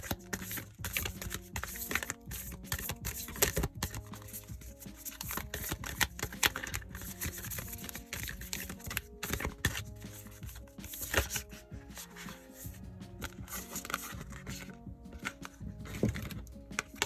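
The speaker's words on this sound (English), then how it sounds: "I'm going to shuffle and then cut the deck." An oracle card deck being shuffled and cut, with a long run of quick, dense papery riffles and flicks, close and fairly quiet, carrying on steadily with no talking.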